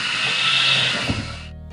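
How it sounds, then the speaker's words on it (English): Countertop blender running steadily on a mix of mango and pineapple for a Jamaican-style rum punch, a loud continuous whir that cuts off near the end. "now that we have all of our fruits together in the blender, we're just gonna go ahead now and give it a blend"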